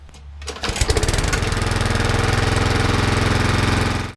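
A small petrol lawn mower engine, started after standing unused over winter, catches after a brief pull and settles into a loud, steady, rattling drone close by, then cuts off abruptly.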